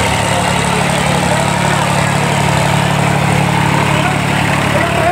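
A tractor engine, from an Indo Farm 3055 DI or New Holland 3630 in a tractor pulling contest, runs steadily and loudly nearby, a constant low rumbling drone with no breaks.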